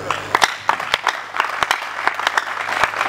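Scattered applause from an audience at a student coordination installation ceremony, irregular sharp claps of modest density over low murmuring, moderately distant and fairly quiet.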